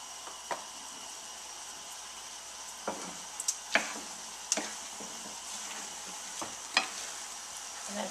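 Shrimp, orzo and vegetables with cumin are sautéed in a pan, producing a faint continuous sizzle broken by occasional light utensil taps and stirring scrapes, fairly quiet with no talking.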